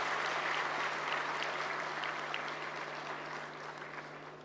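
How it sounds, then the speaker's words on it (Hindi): Sustained applause from a large audience at a World Homoeopathy Day event, a broad even roar of clapping that gradually fades slightly, with a steady electrical hum beneath. "एक बार तालियों की गड़गड़ाहट के साथ उनका जोरदार स्वागत"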